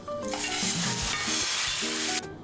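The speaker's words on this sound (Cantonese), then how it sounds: "將麵餅反轉，另一面煎多2至3分鐘至到金黃香脆" Oil sizzles and crackles loudly as a noodle pancake fries in a pan, a continuous hiss that cuts off near the end.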